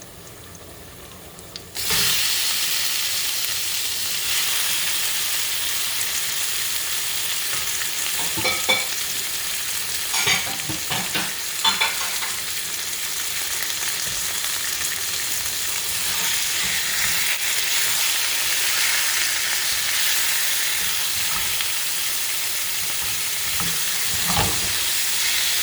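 Raw chicken drops into a hot pan of golden onions for a chicken stir-fry and breaks into a loud, sustained sizzle, with irregular scraping and stirring clatter over the hiss and no speech.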